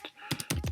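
A computer keyboard is typed on while a file name is entered, giving a few quick, close clicks in a short irregular burst with no talk.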